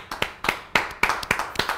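A few people clapping on a podcast set, close and sparse hand claps in an uneven rhythm, roughly seven or eight sharp claps over under two seconds.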